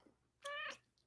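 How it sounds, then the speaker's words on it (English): A pet cat gives a single clear meow of about a third of a second, close by but soft, in an otherwise quiet room with no talk. "That was my cat."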